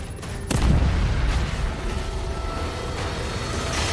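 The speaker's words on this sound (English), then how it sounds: "Hopefully this is still doing damage because it's an explosion." A heavy explosion in the survival horror game The Evil Within 2: a sudden deep boom followed by a sustained rumbling, crackling roar that stays loud through the rest of the moment.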